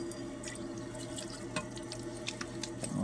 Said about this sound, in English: this is just being squirted down with distilled water